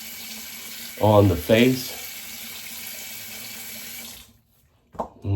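Hot water runs from a bathroom tap into a sink during shaving prep, a steady hiss lasting about four seconds before cutting off, with someone speaking briefly over it and again after a short pause.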